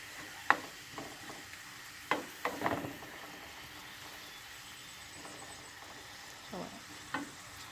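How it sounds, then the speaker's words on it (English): Salted codfish and chopped vegetables sizzle softly in a pan for ackee and saltfish, with occasional scraping stirs and clinks standing out over the low, steady frying hiss. "we've been cooking our codfish with our vegetables for the last 3 minutes"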